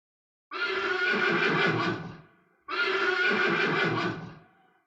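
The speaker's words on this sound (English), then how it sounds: "Yeah, little horse." Two identical horse whinnies from a keyboard sound effect, each a loud shrill neigh lasting about two seconds, separated by a brief silence.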